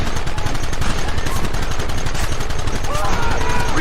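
Dense, continuous gunfire in Red Dead Redemption, many rapid overlapping shots from several guns in a loud, chaotic firefight with no pauses.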